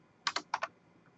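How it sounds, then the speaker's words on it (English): Four quick, close keystrokes tap on a computer keyboard in two pairs, crisp and light against quiet room tone. "I'm going to type that down in my addressing table"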